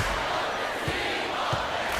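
Loud arena crowd in an NBA 2K16 college basketball game, a dense roaring cheer that swells and holds with a few low thumps beneath, no clear talk over it.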